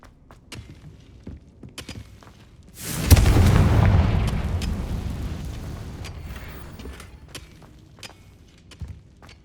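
A Confringo blasting spell detonates in the Hogwarts Legacy video game as a single loud explosion. It hits with a heavy boom and then fades slowly over several seconds, with faint clicks before and after.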